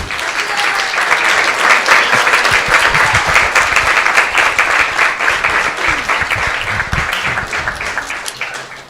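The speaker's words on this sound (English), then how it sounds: "Let's give him a big round of applause." Loud, sustained applause from a large audience at a Vyasa puja celebration, dense continuous clapping that holds for several seconds with no voices, close and full.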